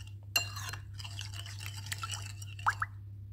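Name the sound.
stirring cornstarch sauce mixture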